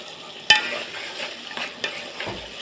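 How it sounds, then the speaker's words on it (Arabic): Okra sautés in a pan as tomato juice is poured in, a sharp burst of sizzling followed by softer bubbling and stirring scrapes, close and moderately loud. "انا شوحت التشويحه واحده بس وهنزل عليها بعصير طماطم"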